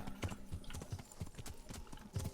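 Galloping horse hooves in Kingdom Come: Deliverance, a quick irregular clip-clop of hoofbeats close by, uneven in rhythm as the ride stutters.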